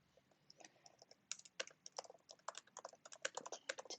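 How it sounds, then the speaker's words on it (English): Fingers type quickly on a computer keyboard, rapid irregular clicks and taps close by, building into a dense, steady patter with no voices. "And you can just start typing."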